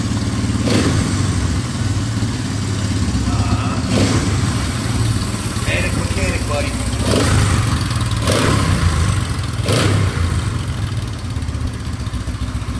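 A 1971 Honda SL350 K1 Motosport motorcycle idles loudly close by, its engine blipped in several short revs over the steady rumble, while someone speaks briefly.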